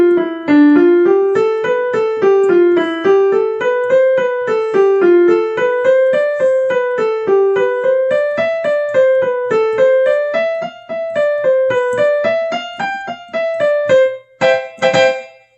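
A piano plays a Hanon finger exercise quickly, with rapid evenly spaced notes in rising and falling patterns that climb steadily, loud and close, ending with a few final chords and no talking.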